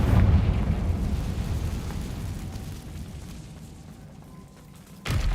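Confringo spell blast in Hogwarts Legacy, a heavy booming explosion with a long rumbling decay fading over several seconds, followed by a sharp new burst at the end.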